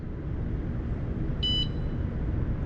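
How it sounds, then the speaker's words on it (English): A Rad Runner Plus e-bike alarm being set on a Seattle street gives one short, bright electronic beep, clear and close, over a steady background rumble of outdoor noise. "Okay, so now the alarm is set."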